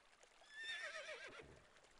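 A horse whinnies in the Civilization IV Caveman to Cosmos game, a single rising-and-falling neigh heard faint and alone, fading out after about a second.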